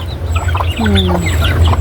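Chickens cluck and squawk close by in short bursts in the countryside, with a low engine-like hum underneath and some nearby chatter.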